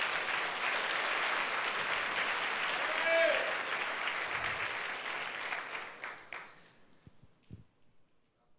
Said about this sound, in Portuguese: Você quer dar um aplauso a Jesus?